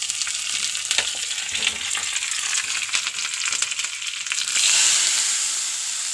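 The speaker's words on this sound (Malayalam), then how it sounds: "എണ്ണ ചൂടായി ഉള്ളി ഇടുന്നു" Onions sizzle and crackle in hot oil, a loud continuous frying hiss with scattered pops, swelling briefly near the end.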